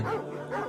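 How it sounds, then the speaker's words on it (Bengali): A dog gives two short bow-wow barks in quick succession, fairly quiet and with nothing else around them. "তোমরা রাতে কুকুরের ঘেউ ঘেউ শব্দ শুনতে পেলে"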